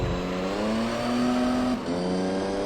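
Opel Astra race car in Gran Turismo 3 racing through tight corners, its engine revving high and rising in pitch, then briefly dropping at a gear shift before climbing again, loud and alone.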